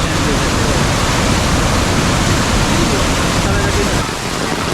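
Floodwater from a river swollen by heavy Konkan monsoon rain rushes and roars in a steady, loud, unbroken wash that dips slightly near the end, with a voice faintly present.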